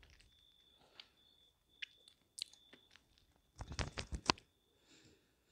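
Prunes chewed loudly with the mouth open, a burst of wet, smacking crunches near the mic after a few scattered softer bites, with a faint steady whine in the background.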